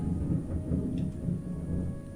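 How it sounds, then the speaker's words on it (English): A big thunderclap from a storm rolls as a deep, continuous rumble lasting a couple of seconds, loud and broad with no voices. "Thunder. God damn, that was a big thunder."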